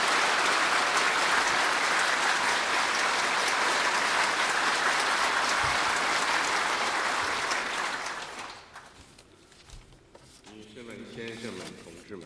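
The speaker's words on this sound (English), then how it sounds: "with a warm round of applause" Audience applause at a ceremony marking the 40th anniversary of the Shenzhen Special Economic Zone, a dense steady roar of clapping that fades out after about eight seconds, followed by a voice speaking.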